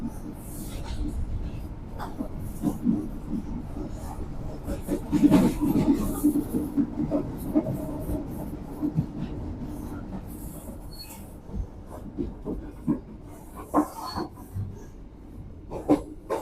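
Blambangan Express train arriving at Kalibaru station in Indonesia, rumbling and slowing with wheel noise and metallic squeals, clattering intermittently, fairly close and moderately loud.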